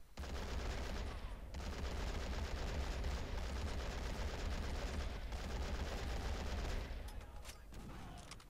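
Continuous machine gun fire in the real-time strategy game Men of War: Assault Squad, a steady dense rattle of shots that stays loud for most of the clip and thins toward the end.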